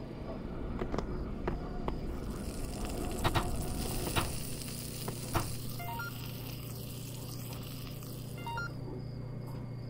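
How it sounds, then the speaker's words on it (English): Bacon sizzles steadily in a Job Simulator kitchen, a continuous frying hiss with a low background hum, broken by sharp clicks and clatters and a short series of beeping tones. "My main course will be bacon."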